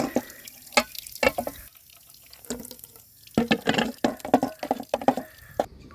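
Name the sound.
water being added to a whitewash mix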